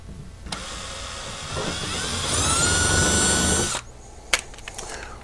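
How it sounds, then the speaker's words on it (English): A power drill with a 1/64 bit whirs up and bores steadily through plastic for a few seconds, its pitch rising as it cuts, then stops, followed by a couple of sharp clicks. "we'll go ahead and through drill a hole into our plastic"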